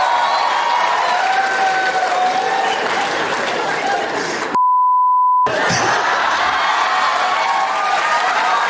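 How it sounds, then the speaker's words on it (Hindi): A steady censor beep tone lasting about a second cuts sharply into a comedy reaction segment, replacing the speech that surrounds it with one flat electronic bleep. "बीप हो गया।"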